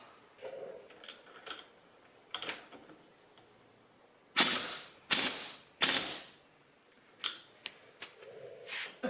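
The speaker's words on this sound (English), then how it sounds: "Tighten these screws on both fork legs so I don't forget ever so slightly. And tighten the cap." Screws and a cap are tightened on the fork legs of a Yamaha RZ350 motorcycle during rebuild, giving close, irregular metallic clicks and ratcheting bursts separated by quiet gaps.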